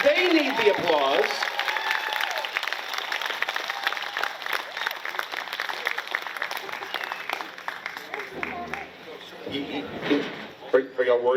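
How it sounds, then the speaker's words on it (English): Audience applause at an outdoor Bigfoot festival, steady clapping from a crowd lasting most of the time, with voices and chatter mixed in underneath and a few brief louder bursts near the end. "Give them an applause."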